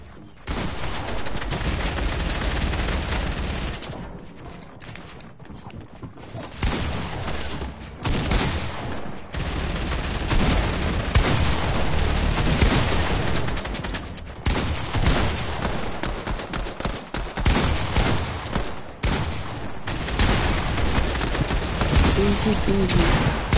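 Video-game gunfire rattles in long, loud, dense bursts with brief pauses between volleys, with voices talking over it.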